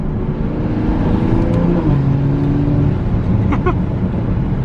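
A tuned Toyota MK5 Supra accelerates hard and shifts gears quickly, its loud, continuous engine drone heard from inside the cabin, with pitch steps where the gears change.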